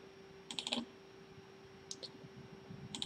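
A computer mouse clicks during a program installation, with a few quick sharp clicks in small clusters separated by quiet pauses, close and fairly faint.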